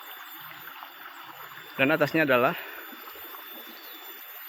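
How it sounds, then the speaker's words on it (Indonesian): A river flows past rice fields at the foot of a mountain, a steady, low rushing and trickling that continues throughout, with someone speaking briefly over it midway. "Jadi sepanjang aliran ini adalah sungai"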